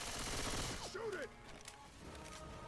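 Gunfire bursts in Left 4 Dead 2, a dense rattle of rapid shots for about a second, then sparser fainter pops against a steady game background.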